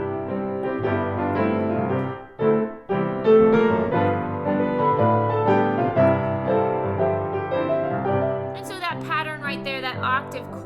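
Piano playing the hymn At Calvary in a lively gospel stride style, with a bouncing left-hand octave pattern under full chords. The playing is loud and close, with a short pause early on and a bright flourish near the end.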